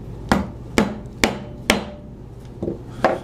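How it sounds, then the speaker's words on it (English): Hammer taps on a chisel cutting a mortise in wood by hand, six sharp knocks spaced about half a second apart, close and clear, each with a brief ringing tail as the chisel reaches the bottom of the cut. "you'll hear my first tap kind of soft, and then it will ring on when it hits the bottom"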